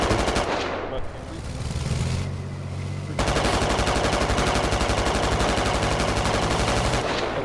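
Sustained automatic gunfire in the video game Squad, aimed at a BTR armored vehicle: a rapid, dense burst that becomes steady and continuous after a brief pause, loud and close, with a low rumble beneath.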